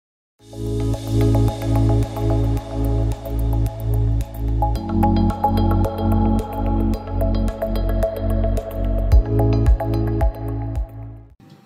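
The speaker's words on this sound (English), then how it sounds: "we need to quench the reaction by dripping the entire solution in ice cold water" Nanocrystal solution falls drop by drop into ice cold water, making a steady, evenly spaced series of clear drips that continues throughout.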